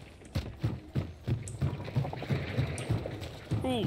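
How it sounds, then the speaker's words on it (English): The water devil in the Hunt: Showdown game makes a rhythmic series of wet, low splashing pulses, roughly evenly spaced and moderately close, with a warbling tone rising at the end. "I hear the water devil"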